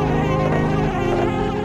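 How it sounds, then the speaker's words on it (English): Bees buzz around a nest in the Banjo-Kazooie video game, making a steady, close, droning hum that never breaks and plays on its own. "that one actually has bees around it"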